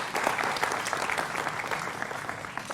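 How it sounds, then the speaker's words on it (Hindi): Studio audience applauding on a Hindi TV political debate show as panelists are welcomed, a dense, steady wash of clapping close to the microphones throughout. "जोरदार तालियों के साथ उनका अभिनंदन है"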